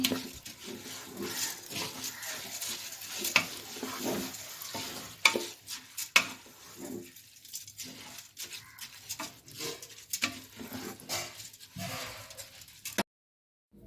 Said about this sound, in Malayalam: ഒരു മൂന്ന് കപ്പ് അരി എടുത്തിട്ടുണ്ട് ബസുമതി റൈസ് അത് കൊഴുത്ത് കൊടുക്കാം നമുക്കൊന്ന് ഇളക്കണം